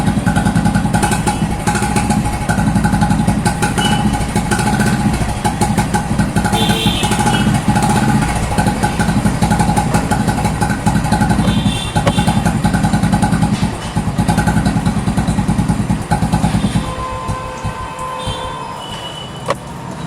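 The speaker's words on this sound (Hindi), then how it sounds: "ये थी पहले साइलेंसर की आवाज़।" Royal Enfield Bullet motorcycle idling with its original factory silencer, a loud, close, steady thumping exhaust beat that runs for about seventeen seconds before the engine noise drops away.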